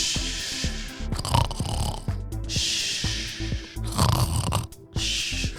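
Bryce snores loudly, close up, in a slow rhythm of about five rasping, rumbling breaths, each followed by a softer exhale.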